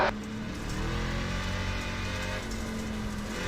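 Car engine in a dirt-track racing video game, a steady broadband roar with droning low engine tones, fairly loud and continuous over a brief stretch.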